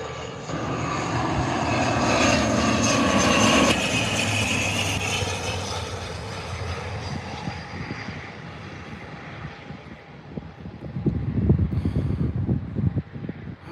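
A Binter airliner lands on the Lanzarote Airport runway, its loud engine roar fading as it rolls fast down the strip, heard from outdoors at a distance.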